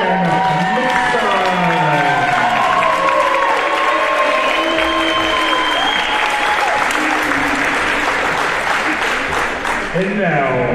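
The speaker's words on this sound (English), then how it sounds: "Please join me with a round of applause for Mr. Owen Mixon." Audience at a boys' varsity basketball event applauding loudly and continuously, with scattered cheers and voices over the clapping throughout.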